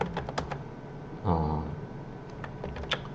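Someone typing on a computer keyboard and pressing the C key while working in a Hangul word processor; a handful of light, scattered key clicks, close and fairly quiet, with a brief louder burst partway through.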